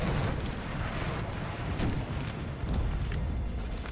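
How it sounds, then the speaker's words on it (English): Artillery bombarding a house in Napoleon: Total War, a dense, continuous rumble of cannon fire and distant blasts with scattered louder thumps throughout, heavy and unbroken. "The artillery's targeting the house"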